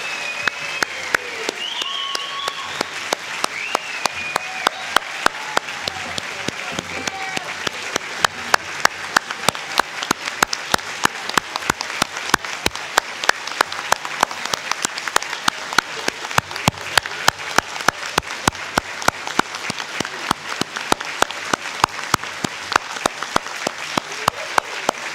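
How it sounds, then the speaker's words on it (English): A large commencement audience claps steadily for doctoral graduates in physical therapy, a continuous, even wash of applause with some distinct nearby claps, lasting throughout without fading. "please give a warm round of applause for your doctoral graduates"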